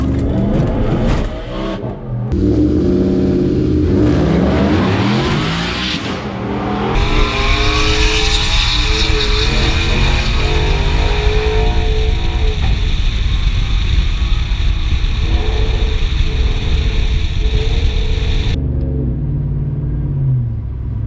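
A supercharged truck launches hard down a drag strip with a 6R80 automatic transmission, its engine roaring loud and close as revs climb and wind up through violent wheel hop, then the sound cuts off abruptly.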